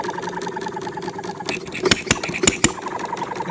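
A half-scale Debolt machine engine runs during break-in, a steady small-engine chugging with a few sharp, loud clacks and knocks standing out near the end.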